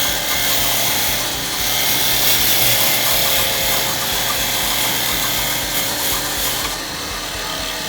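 A wood lathe spins while a tool cuts into an EDC box, giving a continuous scraping, rushing noise over a low motor hum, steady and close throughout with no talking.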